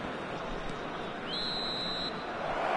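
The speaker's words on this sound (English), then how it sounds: "And there is the half-time whistle." Referee's half-time whistle at a Lille versus Bruges football match: one sustained shrill blast under loud, continuous stadium crowd noise.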